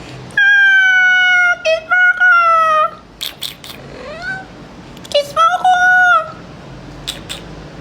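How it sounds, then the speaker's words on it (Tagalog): Several close, loud cat meows in a row: long, drawn-out cries with a short pause in the middle, the last ones rising in pitch before falling quiet. "Kaya ko na talaga kausapin mga pusa."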